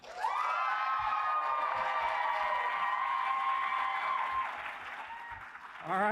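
A Comic Con panel audience bursts into loud, sustained applause mixed with cheers and whoops, a dense crowd roar holding for several seconds before tapering slightly, with a shouted voice at the very end.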